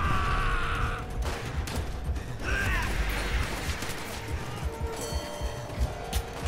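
Call of Duty: World at War co-op mission gunfire, scattered shots and bursts mixed with crashes and clatter, fairly loud, with game sounds layered throughout.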